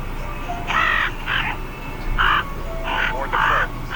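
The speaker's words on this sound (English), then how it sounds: "Or the crow." A crow at a pumpkin patch gives a series of loud, harsh caws in uneven bursts. The calls come through clearly over low outdoor background noise.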